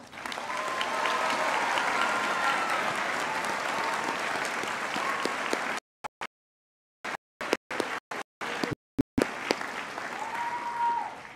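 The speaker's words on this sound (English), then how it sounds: "let's give our graduates one final round of applause." Sustained applause from a commencement audience honoring graduates at a spring university ceremony, a dense, steady wash of many clapping hands filling the hall for several seconds before breaking off into brief silent gaps and returning.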